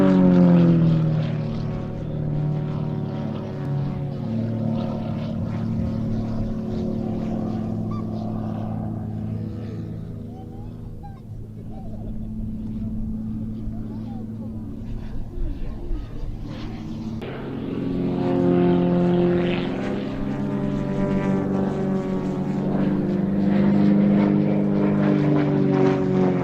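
Display aircraft fly synchronised manoeuvres, breaking towards each other, a steady engine drone running throughout and swelling again near the end, with a voice talking over it.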